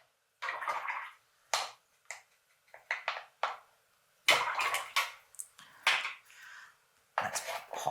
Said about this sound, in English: Okay, let's clean the brush.